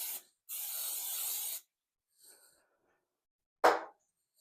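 A canola oil spray can hisses into a dough bucket in two short bursts, the second one long and steady, followed by a faint rub and a sharp knock, all close and with no talk.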